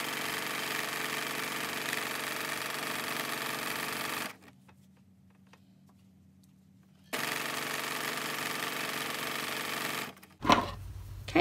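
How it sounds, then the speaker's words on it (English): A sewing machine stitches the facing onto an art quilt, running in a steady loud whir for about four seconds, pausing in near silence, then running again before a brief handling clatter at the end. "Then just stitch almost to the end."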